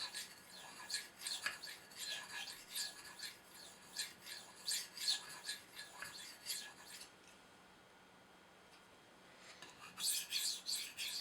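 A knife edge is polished freehand on a Spyderco UF sharpening stone, with quiet rhythmic scraping strokes in a steady back-and-forth rasp. The strokes pause briefly, then resume near the end.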